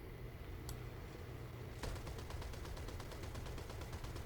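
Rapid automatic gunfire in the War Thunder combat game: after one sharp shot, a steady fast burst of evenly spaced rounds rattles continuously over a constant engine drone, fairly distant and muffled, with no voices.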